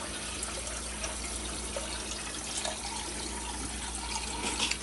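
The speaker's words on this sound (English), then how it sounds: "enough water's going down the drain" Water draining from a sink during a buoyancy experiment with an upturned glass, a steady near trickling and gurgling wash that runs continuously throughout.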